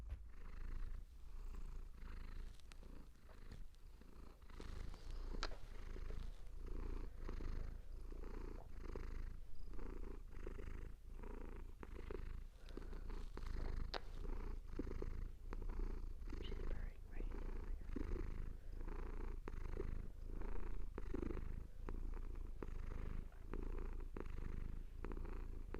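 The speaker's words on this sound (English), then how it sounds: "We interrupt this clip for some cat purring ASMR." A cat purrs close up in a steady rhythmic rumble, each breath in and out audible, continuing without a break for the whole stretch.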